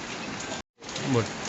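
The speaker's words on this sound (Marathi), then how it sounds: "आता पाऊस पडतोय" Steady rain falls on a surface with a constant hiss, briefly cut by a short silence before resuming, with a faint voice underneath.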